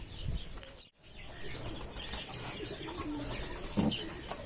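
Fantail pigeons coo softly in a loft, with low murmuring calls and faint chirps and wing rustles scattered through a steady indoor background.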